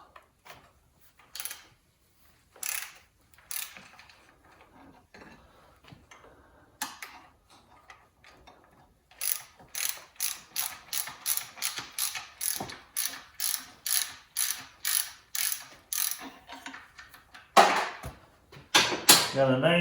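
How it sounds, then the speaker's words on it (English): A standard half-inch socket wrench ratchets to loosen a nut on a 1966 Mercury 110 9.8 hp outboard motor, giving a run of sharp, evenly spaced close clicks that speed up into a fast rhythmic series after scattered strokes. "Take our standard 1/2-inch socket back here to pull this nut loose."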